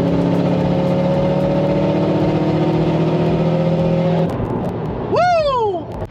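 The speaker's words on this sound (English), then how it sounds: "let me drop down and give you a fourth gear pull here." Subaru Legacy GT wagon engine pulling in fourth gear, a loud steady droning hum inside the car that rises into a sharp climbing engine note near the end, with road and wind noise underneath.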